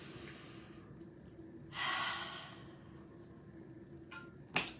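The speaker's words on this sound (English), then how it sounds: "take a full breath in, and on your exhale, just really let go" A deep breath drawn in and then released as a long exhale, a soft airy rush followed by a faint sigh, with a quiet hum underneath.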